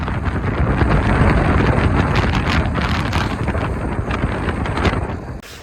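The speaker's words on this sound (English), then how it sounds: "It's just a bit breezy out today. Just some gale winds." Strong gale-force wind roars and buffets the microphone steadily beside a bay in Charleston, South Carolina, a loud broadband rush with gusting swells and no voices.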